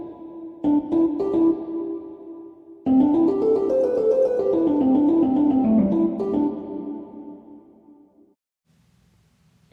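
Music sample from a beat battle with added reverb and EQ: a short chord stab, then a flowing sustained melodic phrase washed in reverb that swells and fades into near silence near the end.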